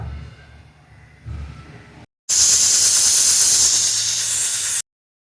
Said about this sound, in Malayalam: ഇത് എന്തായാലും വിസിലടുപ്പിക്കണം ഒരു ആറ് വിസിലടുപ്പിക്കണം